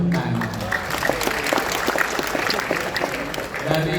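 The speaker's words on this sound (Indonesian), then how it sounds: "Tepuk tangan." Loud, dense applause from a crowd at the 2025 PAN party congress, steady clapping filling the whole stretch without a break.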